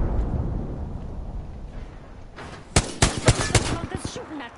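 Gunfire in the Apex Legends video game: after a muffled low rumble, a series of sharp, loud shots cracks out in quick irregular succession, with a faint voice underneath.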